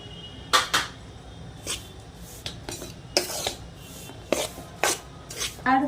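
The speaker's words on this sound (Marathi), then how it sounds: "परत त्या तुपामध्ये चांगलं आपण हलवून घेऊया" A spatula scrapes and clinks against a pan while gram flour is stirred in ghee, giving irregular metallic scrapes and taps with quiet gaps between them.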